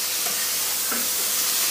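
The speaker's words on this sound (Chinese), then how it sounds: "把洋葱给它煎香" Onions sizzle as they fry in a pan, a dense, steady hiss with faint stirring bumps underneath, close and continuous.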